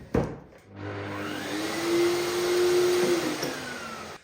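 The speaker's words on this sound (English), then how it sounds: "Good little hoover this, actually." A small hoover vacuum cleaner whirs steadily nearby after a brief bump, its motor pitch drifting slightly as it works, with no talk.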